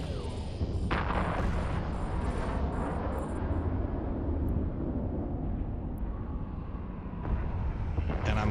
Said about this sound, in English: I'm gonna lock these guys up, and I'm gonna begin firing